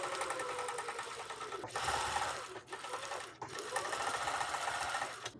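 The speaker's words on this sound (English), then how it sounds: "And I bring the bottom one up and I stitch these on." A sewing machine stitches scrap quilt pieces together, a loud, close, continuous mechanical whir with fast rhythmic needle clatter, briefly pausing twice, with no talk.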